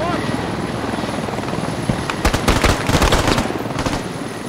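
A helicopter roars close by in the video game Squad, a loud continuous rotor drone with a burst of rapid gunfire cracking over it midway.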